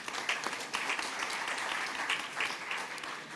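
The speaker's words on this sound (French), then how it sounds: "on t'applaudit aussi" Applause from an audience at a Paris 2024 Olympics climate and sustainability event, a fairly soft, even patter of many hands clapping throughout with a few sharper claps standing out.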